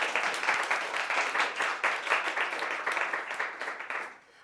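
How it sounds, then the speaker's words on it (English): A seated audience claps steadily for civic scholars at an evening program, a dense continuous wash of applause held for about four seconds before tapering off. "I would like another round of applause for all of our Civic scholars"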